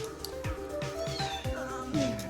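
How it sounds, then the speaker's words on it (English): A kitten meows repeatedly, several short rising-falling cries spaced about half a second apart, close and clear against a faint background. "I know my kitten's meowing again."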